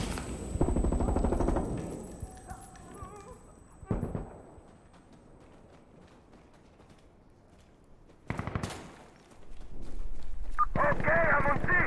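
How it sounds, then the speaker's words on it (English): Bursts of rifle and automatic gunfire crack out in Insurgency: Sandstorm, loud clusters at the start, a single burst near four seconds, then heavy sustained fire near the end, separated by quiet gaps, with a voice speaking in between. "Who's shooting at me? Stop shooting at me."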